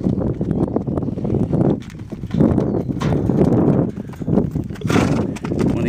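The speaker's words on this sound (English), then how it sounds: "Second time in the round pen, horse still has to figure out some things." Hooves of a horse clip-clop steadily as it moves around a round pen during early groundwork training, rhythmic footfalls close by with some rustle and breathy movement throughout, no talking.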